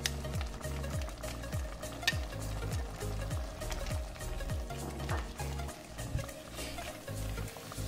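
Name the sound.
garlic added to tomatoes frying in a pan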